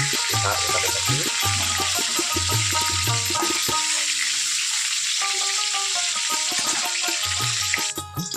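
Chunks of young jackfruit and potato frying in oil in a pan, a constant close sizzle with a bubbling, watery texture and occasional clinks, loud and steady without voices.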